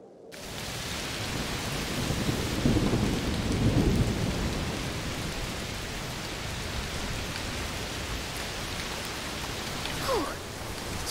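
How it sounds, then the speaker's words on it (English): Steady heavy rain hisses throughout in the video game A Plague Tale: Requiem, with a low rumble of thunder swelling in the middle and a brief sharp crack near the end. "Raining a lot? Yes. Must be a heat storm."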